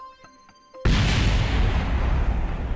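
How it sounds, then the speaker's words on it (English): In the video game Kerbal Space Program, a small spacecraft blows up in a sudden loud, deep explosion that cuts off quiet game tones, followed by a sustained rumbling roar close up. "Oh, those are some big explosions for a very little spacecraft."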